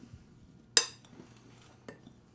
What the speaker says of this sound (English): Take the spoon and toss that together